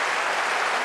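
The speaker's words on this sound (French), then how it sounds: "Applaudissez." A brief, dense burst of crowd clapping comes from a comedy-show audience applauding to vote, loud and uniform for under a second.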